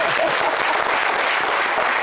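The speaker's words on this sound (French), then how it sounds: "Applaudissez pour ça." Applause from the audience of a television talk show, a brief burst of lively clapping that fills the whole moment at close range.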